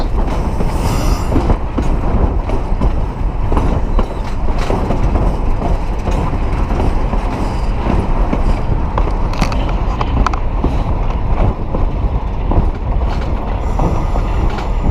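A tourist train in Virginia City, Nevada, rolls steadily along the rails around a curve, a continuous loud rumble with rhythmic clatter and occasional metallic squeal, no voices.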